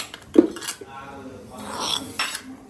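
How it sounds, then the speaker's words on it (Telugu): Pot and metal utensils clink and scrape while chicken curry is transferred into a bowl; a few sharp clanks stand out over soft, intermittent scraping, close by and with no talk. "మనము గిన్నెలోకి ట్రాన్స్ఫర్ చేసుకోవాలి"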